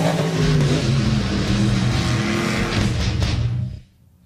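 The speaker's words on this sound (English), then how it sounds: "Out on the track, the racing continues" Monster trucks racing on a track, a loud, steady engine roar with tyre noise that holds for several seconds and then cuts off abruptly near the end.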